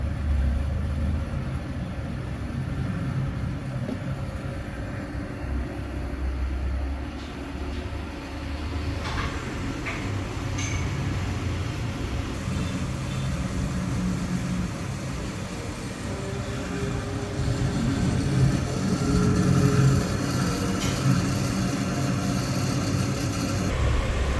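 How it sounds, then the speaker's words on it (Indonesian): Hinoka RCI 003 coffee roaster running its blower to cool the machine, a steady low mechanical rumble and airflow hum lasting the whole stretch, growing slightly louder near the end, with no talk. "standby, blower, dan blower untuk mendinginkan mesin"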